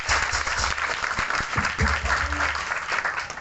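A seated congregation at a Punjabi devotional gathering claps together in a sustained burst of applause, close and fairly loud, with a voice faintly underneath.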